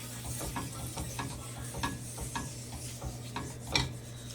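Unsalted butter melting in a skillet on a stovetop, with a steady soft sizzle and occasional light scrapes and clinks of a utensil against the pan, close and continuous with no talk.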